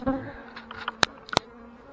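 Honey bees buzz around an open hive during a quick colony inspection, a low steady drone with scattered nearby wingbeats and a couple of sharp knocks or clicks from the hive equipment.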